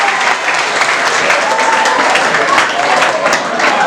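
Sustained audience applause at a school quiz final fills the room steadily and loudly, dense clapping from a crowd with no break throughout.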